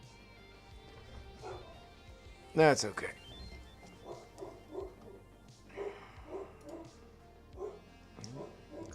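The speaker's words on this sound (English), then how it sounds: "barking" A dog barks and yips in short bursts, some louder and some further off, with a person talking over the barks in a quiet room.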